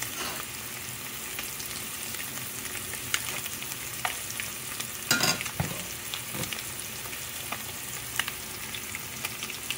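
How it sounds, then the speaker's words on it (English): Red snapper fish and onions frying in a pan, a steady close sizzle and crackle with occasional sharper pops and stirring sounds. "The onions cooking and that fish yeah."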